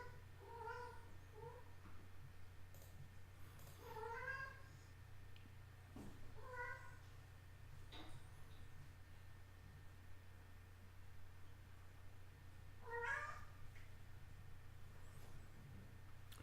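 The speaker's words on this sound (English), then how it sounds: "What you guys are hearing in the background is 4 kittens talking with their mom." Four kittens and their mother cat meow softly and intermittently, several high little calls scattered across a steady low electrical hum, faint and somewhat distant.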